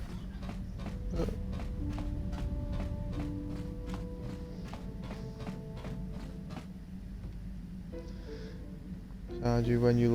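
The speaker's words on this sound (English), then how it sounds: "You think you hear a soft patter of footsteps behind you?" A soft patter of footsteps from Star Wars: KOTOR taps along in an even, regular rhythm over a low game ambience, ending with a short burst of other game sound.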